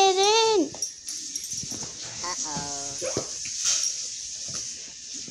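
A dog gives a sharp, high whimpering yelp at the very start, then people talk over a steady background hiss, with a few fainter canine sounds in the mix.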